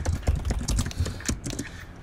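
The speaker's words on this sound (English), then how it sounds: "Sorry, it's probably me typing." Keys clatter on a clicky laptop keyboard in quick, uneven bursts of close, sharp taps, with no voices over them.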